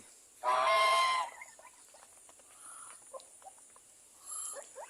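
Geese with goslings being fed rice beside a pen near catfish ponds, giving one loud honking call followed by softer scattered peeps and calls, plus a second, fainter honk at the end, no talk.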